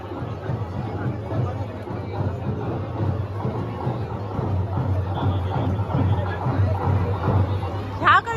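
Dense crowd hubbub at a village jatra with a palanquin procession, steady overlapping chatter and shuffling throughout, with a brief sharper burst near the end.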